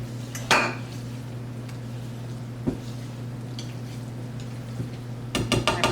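A whisk stirs a sticky high-protein breakfast mixture in a bowl, giving a few scattered metallic clinks and taps over a low steady background hum, with a brief cluster of clatter at the end.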